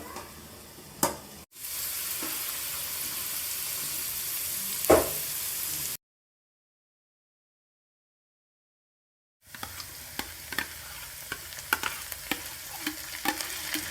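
Chopped onions and chilies for noodles fry in a pan, giving a continuous sizzle with sharp stirring clicks, close by. The sound drops out fully midway, then returns as crackling sizzle with scattered scrapes.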